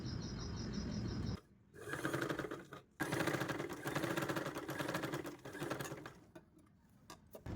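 Domestic sewing machine running in bursts as a top stitch is sewn through the main cloth of a blouse sleeve, steady close whirring with a short pause and a brief stop before the stitching resumes, fading into light handling clicks.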